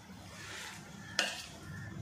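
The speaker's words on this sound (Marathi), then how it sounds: "आणि ह्या कैरीच्या फोडी टाकते आता. आणि सगळ्या मिक्स करून घेऊया मसाल्यामध्ये" Raw mango pieces being mixed into pickle masala, soft close stirring and squelching with one sharp clink of a utensil against the container partway through, fairly quiet and without speech.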